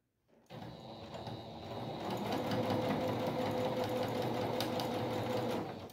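Sewing machine stitching fabric strips for a patchwork rug, a steady close mechanical whir that starts after a brief silence and runs continuously with no talking.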